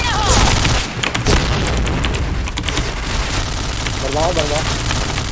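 Grenade blasts booming in the Point Blank shooter game, loud low-end rumbles with scattered gunfire crackle, an opening burst and later impacts under steady game noise, with a voice talking at times.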